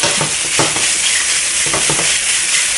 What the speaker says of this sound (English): Now it's stir fry at high heat